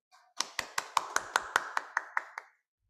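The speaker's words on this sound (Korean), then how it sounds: "뜨거운 박수 부탁드리겠습니다" Scattered applause for a speaker at a Korean–Colombian cooperation forum on energy transition, about a dozen separate claps in a steady rhythm, close and fairly clear, fading out after two and a half seconds.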